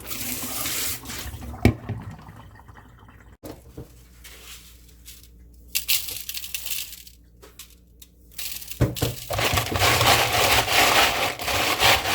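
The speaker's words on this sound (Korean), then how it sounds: "여기에 소금을 넣고 다시 한 번 더 씻도록 할게요" Cockles being washed by hand in salted water in a basin, with loud, close sloshing, swishing and shell rattling that fades to quieter stretches midway and returns strongly near the end.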